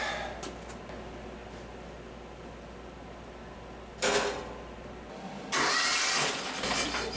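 A 1997 Argo Conquest ATV engine with a suspected bad rear cylinder, heard at low level before it fires, then running in two loud bursts, the second a rough, steady run that continues to the end.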